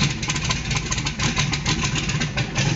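A truck engine idling on a cold start, fed E85 through a blow-through CSU carburetor, giving a loud, close, steady rumble with a slightly uneven pulsing beat and no voices.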